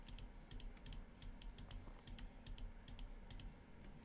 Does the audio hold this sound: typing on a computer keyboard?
yes